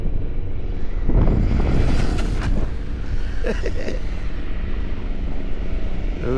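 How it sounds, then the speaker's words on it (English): Strong outdoor wind buffets the microphone with loud, continuous low rumbling and gusty bursts, heard during a remote-control boat top-speed run. "Oh, this wind is pretty bad."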